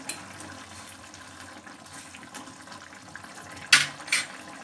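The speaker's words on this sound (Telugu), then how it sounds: "ఇప్పుడు ఒక్కసారి మూత తీసి కదుపుదాం" A soft, wet background simmer from a pan of brinjal and pea curry gives way to a sharp metallic clank as the lid comes off, then a second clink as a spoon starts stirring.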